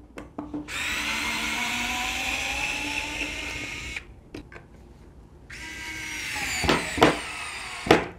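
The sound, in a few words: Ronix 8591 electric screwdriver driving a screw into plywood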